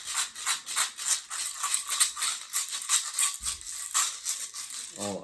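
A small hand shaker played in a steady rhythmic pattern, bright rapid bursts of rattling grains repeating evenly at close range, with a brief low thump near the end.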